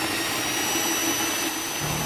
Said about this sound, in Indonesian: Kita mixer hingga telurnya nanti menjadi putih.